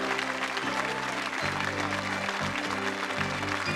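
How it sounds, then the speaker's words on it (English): Studio audience of a 1987 television game show claps steadily, a broad even patter of applause at moderate level, with low tonal music playing underneath. "Give them a round of applause"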